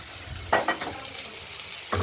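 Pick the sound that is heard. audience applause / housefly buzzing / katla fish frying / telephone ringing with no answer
katla fish frying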